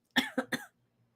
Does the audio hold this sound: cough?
yes